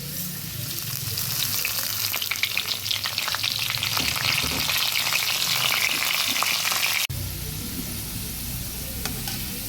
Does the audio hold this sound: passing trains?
no